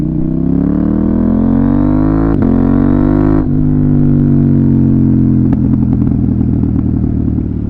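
KTM Duke 890R motorcycle fitted with an SC Project exhaust, revving loud and close: a steady throaty idle climbs in pitch, drops back, then settles into a lumpy, rumbling idle.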